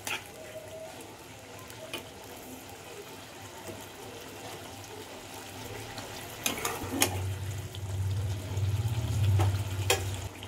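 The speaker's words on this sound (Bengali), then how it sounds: "জল দিয়ে দিলাম, উষ্ণ গরম জল" Warm water poured into a pan of frying pointed gourd curry, a steady hiss and gentle bubbling that swells louder near the end with a few clinks of a utensil.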